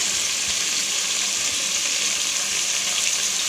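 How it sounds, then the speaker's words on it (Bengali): Pointed gourd (potol) fries in oil in a pan with a continuous, even sizzle and hiss, close and fairly loud, with no talking. "তাই পটলটা একটু ভালো করে ভেজে নেবো।"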